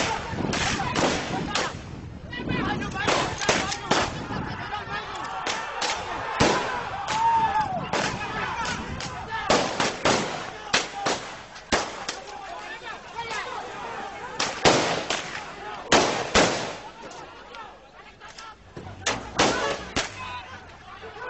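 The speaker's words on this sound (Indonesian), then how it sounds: "Polisi membubarkan massa dengan mengeluarkan tembakan ke udara" Police gunfire shot into the air to disperse protesters in West Papua, Indonesia, a series of loud, sharp shots, some in quick bursts, cracking outdoors over crowd noise and excited voices.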